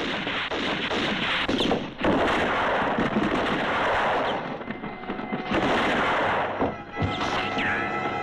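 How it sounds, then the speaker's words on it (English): Several guns fire at a rolling barrel in a loud, dense barrage of shots and crashes that carries on almost without a break, with a few short lulls. "Quick! All of you, fire at that barrel!"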